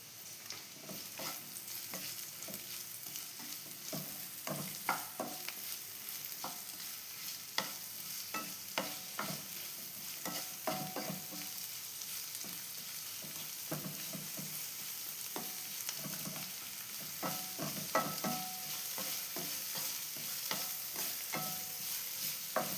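Onions and tomato fry in a pan for a papaya masala curry, a soft continuous sizzle broken by frequent scraping stirs, close and fairly quiet with no talking.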